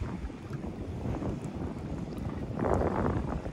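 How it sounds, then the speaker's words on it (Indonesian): Strong wind on a rocky coastal shore buffets the microphone in a steady, loud rushing roar, swelling louder toward the end, with no talk. "Semoga suara saya kedengaran karena kencang sekali angin"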